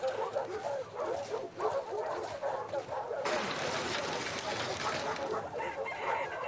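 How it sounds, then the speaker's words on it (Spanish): A dog in the game The Last of Us Part II barks and whines excitedly indoors, in a busy, dense stretch that turns into a brighter rush of noise partway through. "Hola, perrita loca. ¿Quién es mi chica favorita?"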